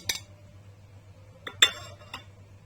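Green coffee and two large spoonfuls of raw unsweetened cocoa going into a pot, heard as a few sharp metallic spoon clinks against the pot, spaced out over a quiet background with a low steady hum.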